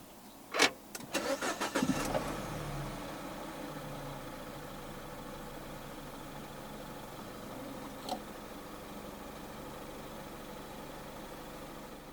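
A 2017 Peugeot 508 1.6 THP engine cranks with a few quick bursts after a push-button start, catches, and settles into a steady low idle, with one small rev-like blip later.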